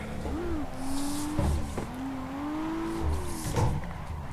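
A car drifts around a race track, its engine holding a steady droning note that rises and dips, with brief tire squeal at the entries. The car is close and continuous, with no talk.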